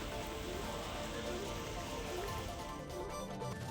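Steady heavy unseasonal rain with strong wind hisses and patters continuously on surfaces, a dense, loud wash of sound with no pauses.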